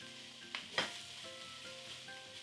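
Cauliflower greens drop into a hot pot with two sharp hisses, then a soft continuous sizzle carries on underneath.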